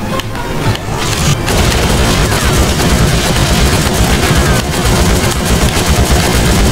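Machine-gun fire from a kart weapon in Crash Tag Team Racing pours out as a dense, loud, continuous barrage with rapid bursts and crashing impacts layered over racing game noise.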